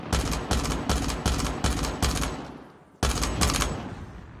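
Rapid bursts of automatic gunfire from a weapon in Call of Duty Mobile, about six quick loud volleys that trail off, a brief gap, then another sharp burst, with no talk over it.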